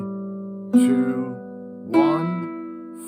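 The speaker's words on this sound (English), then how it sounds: "I'll just play open strings again." Open guitar strings plucked fingerstyle in a repeating pattern, clear sustained notes ringing over one another, with a fresh pluck roughly every second and a quiet, close, solo tone.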